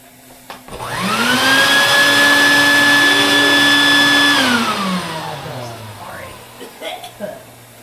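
A vacuum cleaner fitted with a dryer vent hose attachment whirs loudly and steadily for about four seconds, then winds down with a falling pitch, alone and close.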